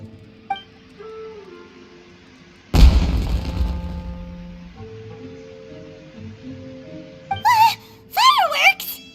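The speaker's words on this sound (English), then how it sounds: "Was that an explosion? It sounded like fireworks." Fireworks go off in the video game Genshin Impact: one loud, deep boom with a rumbling decay, then short chirpy game voice sounds near the end over quiet background music.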